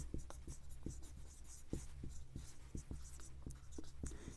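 Close, quiet pen strokes on paper while a math ratio problem is worked out by hand, a rapid series of light taps and scratches in an uneven rhythm.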